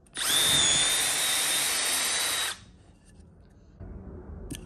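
A power drill whines loudly and steadily for a couple of seconds, drilling a hole through a wooden board, then stops, leaving quiet room noise and a faint rustle.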